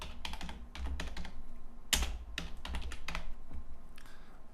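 Keys clack on a computer keyboard while a website is built in Dreamweaver, coming in quick close bursts of clicks separated by short pauses, with one sharper strike midway and no talking.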